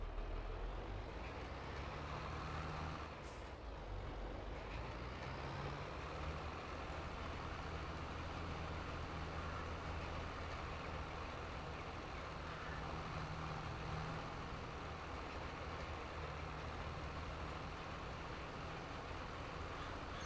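An upgraded large tractor engine in Farming Simulator 22 rumbles steadily and loudly while driving over hilly fields, a constant low drone with no talk.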